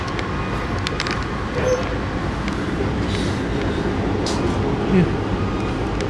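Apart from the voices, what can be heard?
Amtrak passenger train running on rails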